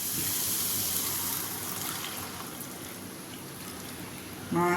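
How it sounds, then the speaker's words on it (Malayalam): Water is poured into a pot of chopped raw mango and green chilies for a curry, making a soft, steady gushing stream that runs continuously before a brief louder knock at the end. "വേവാൻ ആവശ്യമുള്ള വെള്ളം ഒഴിച്ചു കൊടുക്കാം"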